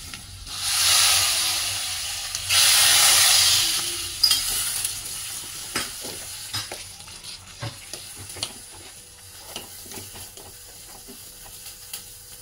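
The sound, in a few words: fried ingredients added to raw jackfruit dish, sizzling and stirring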